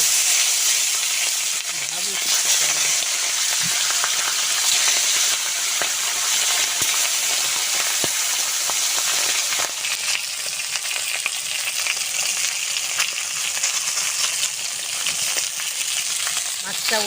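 Tilapia fish frying in very hot mustard oil in a kadai, a loud steady sizzle with crackling pops throughout, close and continuous.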